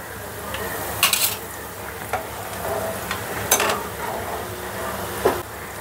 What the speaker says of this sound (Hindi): और यहाँ मेरी प्याज भी एकदम अच्छी फ्राई हो गई है